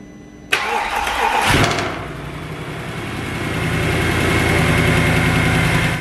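A salvage Mercedes C63 engine cranks and fires with a sharp burst, then settles into a steady close idle with a faint metallic knocking, tapping noise running beneath the rumble.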